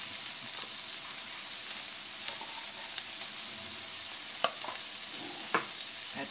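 Corned beef frying in a pan alongside chicken hot dog and spiral pasta, a steady close sizzle with occasional sharp spatters and stirring scrapes.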